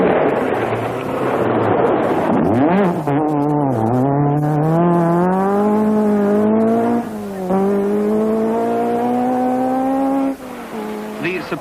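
A Ford Escort rally car at full throttle on a stage of the 1972 Welsh Rally, its engine note rising and falling through gear changes in sustained loud harmonic sweeps, close and alone for nearly twelve seconds.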